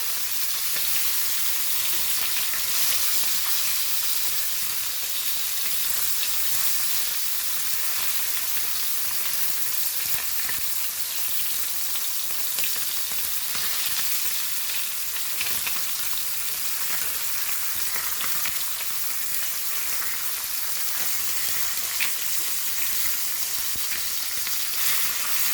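Goan Lepo sole fish frying in a pan, a continuous crackling sizzle of hot oil that stays loud and steady throughout with no talking.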